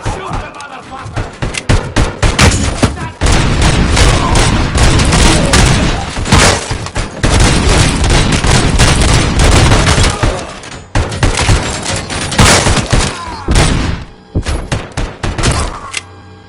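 Dense, loud gunfire in a Robocop action scene, with sustained bursts of shots and booms that pause briefly before firing resumes, and voices shouting in between.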